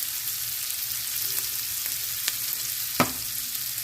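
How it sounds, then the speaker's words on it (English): Seasonings and black pepper cook in a pan for Zuppa Toscana soup, giving an even, soft sizzle with a couple of faint spoon taps and one louder clack near the end, no talking. "Cook those seasonings a little bit."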